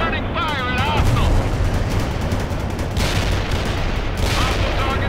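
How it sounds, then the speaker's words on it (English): A Bradley armored vehicle returns fire in the World in Conflict war game, a dense rumble of gunfire and explosions running throughout, with a brief radio voice near the start. "Bradley returning fire at hostile"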